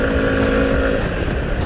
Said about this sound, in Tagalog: for the acceleration test, approved na naman itong XDV175 ng Rusi